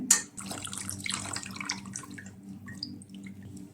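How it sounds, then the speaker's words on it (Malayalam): Tap water runs steadily into a sink as a mixer grinder jar is rinsed in a home kitchen, a close, continuous splashing flow with small clinks, and no one speaking. "മിക്സിയുടെ ജാറൊന്ന് വാഷ് ചെയ്തിട്ട്"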